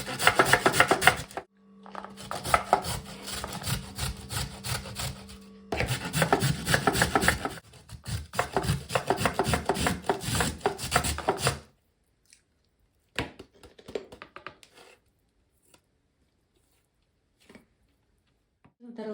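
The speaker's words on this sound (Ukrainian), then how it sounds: "Далі натираємо моркву." Rhythmic rasping scrapes of carrots being grated, in fast continuous bursts with short pauses, then sparse softer scrapes and quiet.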